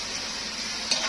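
Boiled water lily stems go into a frying pan with shrimp, setting off a steady, close hiss of frying and the scrape of stirring, with a brief louder clatter near the end.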